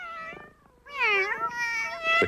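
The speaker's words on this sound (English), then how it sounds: "the cat had just had kittens in Elna's sewing basket when the phone rang." A cat that has just had kittens on a ranch meows in drawn-out, wavering cries, two or three close, loud calls with a short pause between them.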